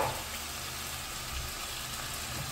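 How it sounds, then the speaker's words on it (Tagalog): Chili, onion and leeks sauté in a pan for Korean soy-braised chicken, a steady close sizzle with fine crackling that runs evenly throughout and no talk over it. "Yan, ginigisa lang natin."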